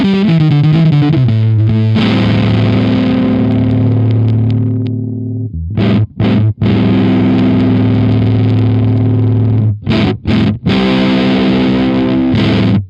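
An electric guitar played through a Teaching Machines Fuzzbillion fuzz pedal, heavily distorted: loud sustained fuzzy chords ring out, then get choked off in short stops and restrikes, with no talk over it.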